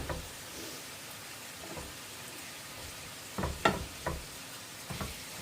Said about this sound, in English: I'm cooking this meat. This is just hamburger, beef hamburger. Cooking on a medium-high heat.